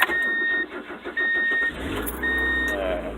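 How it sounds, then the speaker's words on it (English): A Ford Aspire car being started, with a strained cranking engine over a low hum and a repeating electronic chime tone, close and moderately loud. "Turn the car on."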